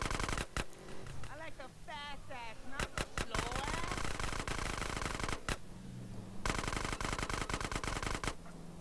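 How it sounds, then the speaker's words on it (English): Rapid bursts of game gunfire in GTA San Andreas crack sharply and repeatedly across the whole stretch, with dense automatic volleys near the end, as voices talk over the shooting. "Stop fucking shooting me."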